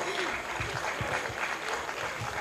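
An audience at a public event in Vayk, Armenia, claps in a brief burst of applause, with scattered individual claps and some voices in the room.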